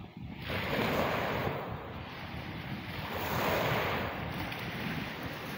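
Strong sea waves roll onto a beach, a loud continuous roar of surf swelling and easing in slow surges, with wind buffeting the microphone throughout.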